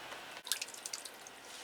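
Water dripping and trickling from soaked orchid husks as they are squeezed out by hand, a quiet run of close, irregular drips and small splashes over about a second, with no voices.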